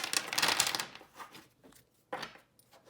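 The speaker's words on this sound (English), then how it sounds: "I'll give these a little shuffle." Oracle cards are shuffled by hand in a few quick papery riffling bursts, a dense flurry at first and then a shorter second burst, close and fairly quiet.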